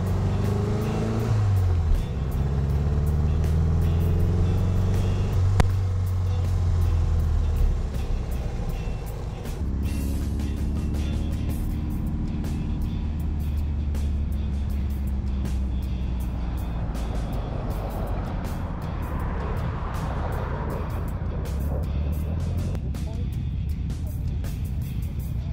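A Volkswagen Beetle with a 009 distributor is driven along, its engine running steadily with road rumble and gear changes, heard from inside the car throughout.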